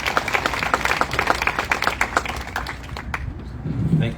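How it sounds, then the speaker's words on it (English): Crowd applause at a Golden Spike ceremony greeting Mayor Joe Ritter, a steady burst of many hands clapping close by that thins out toward the end, with a faint voice murmuring underneath. "give him a round of applause as he comes"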